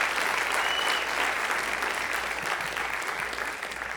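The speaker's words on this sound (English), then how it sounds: "Let's give him another round of applause." Audience applause at a town hall meeting after an electric guitar performance, a dense, even round of clapping from a crowd that holds steady throughout.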